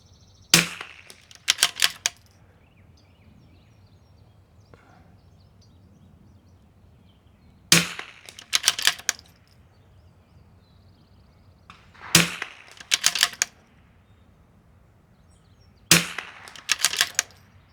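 Four sharp rifle reports from a PRS precision rifle setup at a shooting range, evenly spaced several seconds apart, each a crisp crack followed by short echoing tails, with quiet pauses between.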